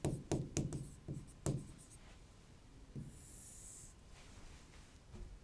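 A lecturer writes on a board during a class, making a quick series of tapping and scratching strokes that gradually trail off into quieter, scattered marks.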